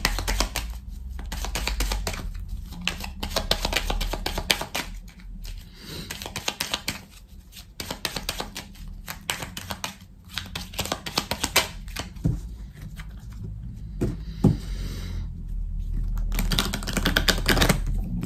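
Oracle cards are shuffled and drawn by hand in a steady, close flurry of crisp riffling and slapping card sounds with brief pauses, no talking.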